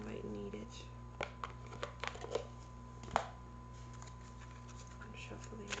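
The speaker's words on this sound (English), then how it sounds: "I'm shuffling the beautiful angel cards." Angel oracle cards are shuffled with soft, intermittent riffling taps and flicks, faint and close, over a low steady hum.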